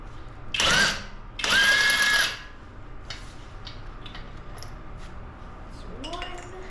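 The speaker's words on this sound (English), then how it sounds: "Now we're going to be using a 1/2-inch impact wrench to take off the lug nuts on the tire." Two loud bursts from a 1/2-inch impact wrench spinning lug nuts off a wheel of a 2013 Toyota Sienna, the second longer, followed by a quieter pause with faint clinks and background speech.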